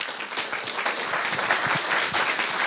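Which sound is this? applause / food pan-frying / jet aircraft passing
applause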